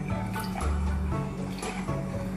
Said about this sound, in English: Then pour the evaporated milk slowly.